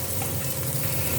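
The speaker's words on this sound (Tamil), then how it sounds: "கருவேப்பிலையும் போட்டு இதில் பிரட்டணும்." Steady, dense crackling sizzle of curry leaves stir-frying in hot oil, close and continuous with no voices.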